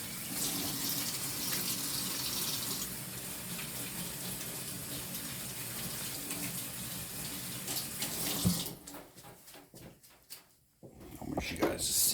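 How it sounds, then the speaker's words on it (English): Hands rinsed under a running kitchen tap, a steady close gush of water that breaks into splashes and drips before it shuts off, with a person talking over it. "let me rinse my hands real quick"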